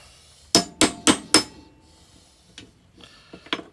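Four sharp, evenly spaced hammer whacks on a Honda Big Red headlight cage ring out close and loud, followed by a few lighter metallic taps and clicks.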